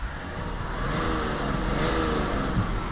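A 2008 BMW X5 3.0d E70 with a six-cylinder diesel engine revs loudly nearby, a deep steady drone that swells slightly toward the end with no one speaking.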